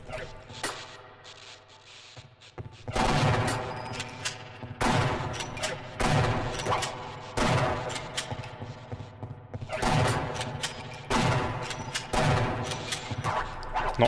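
Shotgun blasts and other gunfire in the video game Half-Life: Opposing Force, a run of repeated punchy shots with short gaps and a pause near the start, set against busy game sound.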